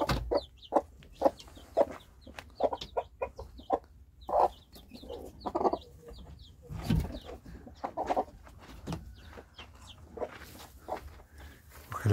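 A defensive hen clucks in short, repeated bursts beside newly hatched chicks, close by, with soft shuffling and scratching movements between the calls.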